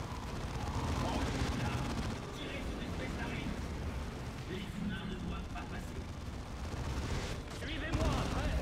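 Bolter gunfire in the Warhammer 40,000 game Dawn of War 2, a dense, continuous barrage of rapid shots and blasts from a battle, with voices speaking beneath the din.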